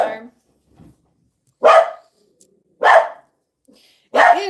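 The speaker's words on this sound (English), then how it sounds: "Let's see what the girls are barking about." Several sharp dog barks from the household dogs, spaced about a second apart, loud and close inside a house, with faint quieter sounds in between.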